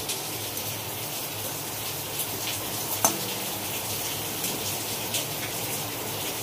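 Spiced potatoes fry in a pan with Kashmiri chilli powder, a steady broadband sizzle running throughout with a single sharp clink near the middle, close and moderately loud.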